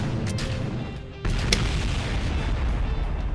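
A rocket launch vehicle explodes in a video game: a steady loud roar, then a sudden heavier boom and crackle that carries on as a dense rumbling blast.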